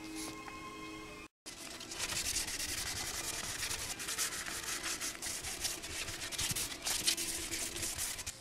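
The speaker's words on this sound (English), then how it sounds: "I'm going to sand them out and get this just a little bit nicer" Sanding paint flaws out of motorcycle parts during a Yamaha FZR restoration: a steady, close scratchy rubbing that runs continuously after a brief gap near the start, with no talking.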